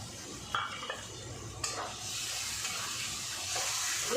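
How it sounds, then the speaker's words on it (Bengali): Chopped tomatoes sizzle softly in a pan for jackfruit dhokar dalna while a spatula stirs and scrapes a few times, then a steady frying hiss settles in without any talking. "ভালো করে আমি কষে নেব"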